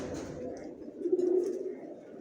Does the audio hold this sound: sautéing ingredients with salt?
no